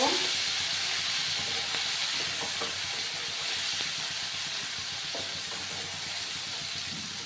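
Tomato paste cooking down in a pan after black cumin seeds, a continuous close hissing sizzle with faint scraping, steady and unbroken.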